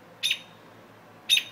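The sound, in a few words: bird calling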